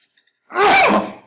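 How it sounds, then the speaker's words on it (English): A single short, sharp burst of breath, like a sneeze, rising abruptly after near silence and fading quickly. "Excuse me, I'll sneeze."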